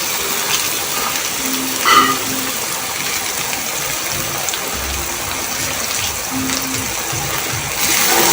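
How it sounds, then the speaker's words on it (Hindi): Chopped ridge gourd hits fried masala in a pan, giving a steady, dense sizzle throughout with a few louder bursts and faint clatter. "इसके अंदर मैं तोरियाँ डाल रही हूँ"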